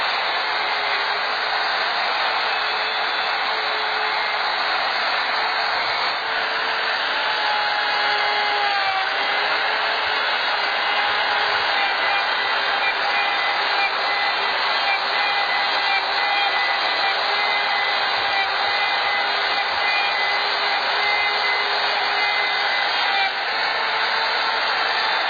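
A power tool, likely a router, cuts a dado across a wooden shelf board, giving a steady, loud, continuous whine that holds unbroken from start to finish with no talk.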